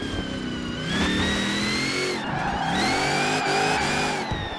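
A car in Forza Horizon 4 races at full throttle, its engine revving loud and close in rising harmonic sweeps that shift with each gear change, continuous through the whole stretch, with no talk.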